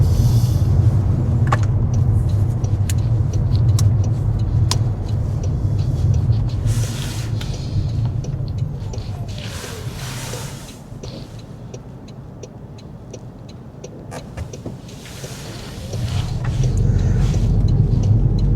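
Car engine and tyre rumble heard from inside the vehicle during a driving lesson on roads near Pakenham, Victoria, holding steady, easing as it slows through a left turn at a roundabout, then building again as it pulls away.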